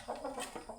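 A Bangkok fighting chicken gives a short run of quiet, close clucks, several soft rhythmic notes in under a second.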